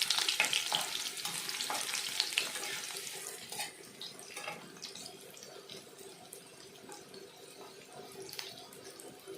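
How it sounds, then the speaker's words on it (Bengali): Crushed garlic frying in a pan for dal, a soft sizzle that is busiest at the start and thins out, with scattered stirring clicks and faint watery crackle throughout. "তারপর আমি দিয়ে দিচ্ছি রসুন, থাতলানো রসুন, নাড়াচাড়া করবো।"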